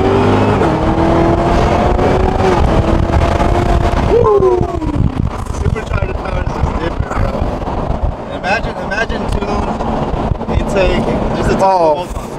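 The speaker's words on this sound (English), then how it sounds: "obviously the exhaust is like stock, so you hear the whine more than anything" A BMW E92 M3 with its V8 engine and stock exhaust, heard from inside while driving: a steady, loud engine drone with whine, rising through gears and then falling as revs drop, with speech over parts of it.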